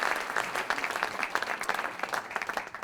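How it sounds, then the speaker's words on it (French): A warm burst of applause at the opening ceremony of an interjura training fair, many hands clapping in a dense, lively patter that stays fairly even and close throughout. "On va les applaudir chaleureusement."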